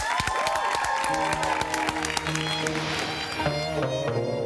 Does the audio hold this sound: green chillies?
no